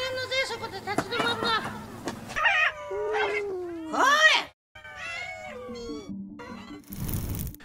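Cats on Aoshima, a Japanese cat island, meow and yowl in a run of drawn-out, rising and falling cries, several overlapping, close and fairly loud, with a short gap and a burst of noise at the end.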